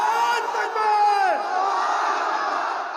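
A large crowd at a Bengali religious waz gathering answers with loud, sustained collective shouts of takbir. The voices swell together in drawn-out cries near the start, then settle into a continuing roar.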